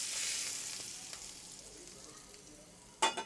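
A hot tadka sizzles softly as it is poured over cooked chana dal with onions. The faint, quiet frying hiss fades gradually and ends in a sharp brief splash of sizzle near the end.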